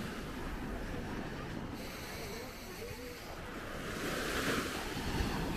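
Sea waves washing on a quiet beach at Mangalia, a continuous broadband surf roar mixed with wind buffeting the microphone, fairly steady and swelling slightly near the end.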